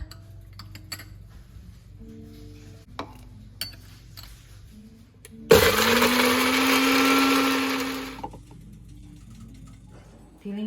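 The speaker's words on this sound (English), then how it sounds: "Now I am going to put the pepper in the food processor" Food processor blending peppers with water for salsa, starting abruptly after light kitchen clinks and taps, whirring loudly and steadily for almost three seconds, then winding down to quiet.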